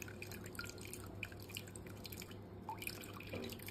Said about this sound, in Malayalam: നമ്മളതായത് അരിച്ച് ഇതിലേക്ക് അരിച്ചുകൊണ്ടിരിക്കുകയാണ്.